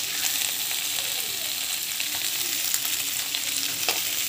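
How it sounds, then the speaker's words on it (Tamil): Chillies, tamarind, urad dal and coconut sautéing in a pan, giving a steady, close crackling sizzle with faint scrapes of stirring and no pauses. "மிளகாய் வந்து போடலாம். மிளகாவும் வதங்கட்டும்."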